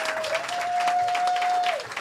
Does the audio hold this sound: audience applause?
yes